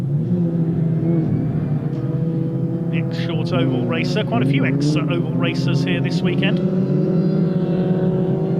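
Several rallycross race cars run close together, their engines producing a steady loud droning rumble and rising revs throughout, with a commentator talking over them.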